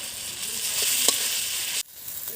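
Spices, including cumin and chilli powder, sizzle and fry in a hot pan while jackfruit cooks, a steady hiss with a few faint stirring taps, then abruptly quieter.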